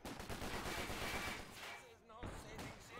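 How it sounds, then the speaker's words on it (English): Machine gun fire in Company of Heroes 2: rapid, dense bursts of automatic gunfire rattle at middle distance, pausing briefly before another volley, with faint battlefield noise and voices mixed in. "Got a machine gun troop over there. They're taking shots at these guys over here."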